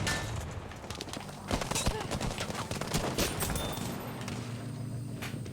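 Gunfire in the video game Battlefield 5, a rapid burst of shots followed by scattered cracks over a busy background, with a voice talking underneath.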